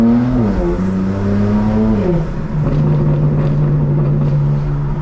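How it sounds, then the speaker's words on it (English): A 2024 BMW M4 Competition xDrive's exhaust drones steadily from inside while driving at night, the engine note dipping as revs shift and then holding a deep, even rumble. "I think at 65 degrees the exhaust sounds incredible."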